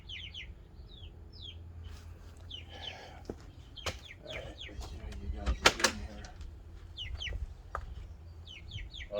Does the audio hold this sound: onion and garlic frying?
no